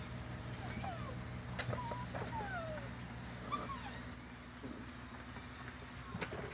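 Seven-week-old poodle puppies from a litter of five whimper and yip in soft, high, repeated calls over a steady low hum, with a few sharper yelps standing out.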